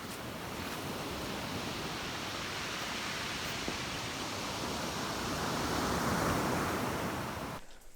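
Continuous wash of water on a coastal shore, a broad steady hiss that swells gently and then drops away near the end, with no voices.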